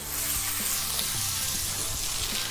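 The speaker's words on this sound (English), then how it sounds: "Can you hear the sizzle?" Onions sizzle steadily as they fry in a pan for a fried potato and onion side dish, a close, dense crackling hiss with no talk.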